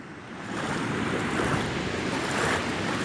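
A flooded river roaring at Cachoeira do Roncador waterfall: a loud, steady broadband rush of churning water that swells after a moment and holds constant, with no voices.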